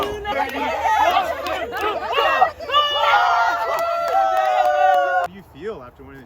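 A lively crowd cheering on a rock-paper-scissors competitor, with excited shouts and chatter overlapping in bursts that build and carry on for several seconds before dropping away.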